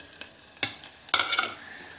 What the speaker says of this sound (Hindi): और अच्छा सा मिक्स करेंगे।